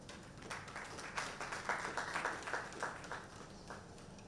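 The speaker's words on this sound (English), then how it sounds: "A round of applause for them." An audience applauds the IFON Guard representative at the NIGGSA 2025 gathering, a short fairly faint round of clapping that swells briefly in the middle before thinning out.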